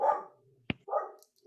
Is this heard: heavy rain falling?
no